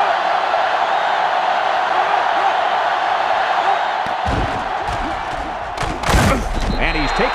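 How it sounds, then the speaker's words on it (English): Stadium crowd in NCAA Football 2005 during a Florida Gators vs Tennessee Volunteers rivalry game, a loud continuous roar of cheering with sharp thumps and a burst of noise toward the end. "And this crowd is going absolutely crazy."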